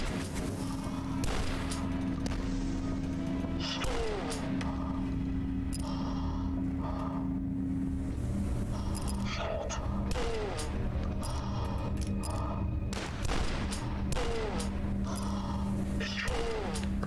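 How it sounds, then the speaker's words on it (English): Repeated shotgun blasts from the retro first-person shooter DUSK, loud sharp bursts spread irregularly across the stretch over a constant game soundtrack and mechanical clatter, with no talk. "I really want another shotgun so I can dual wield these babies."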